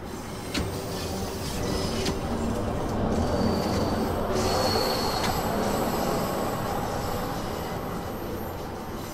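A 1972 Stock Bakerloo line tube train in Train Sim World 2 rumbles steadily along the track, loud and close, with metallic wheel squeals and brief clanks over a continuous roar.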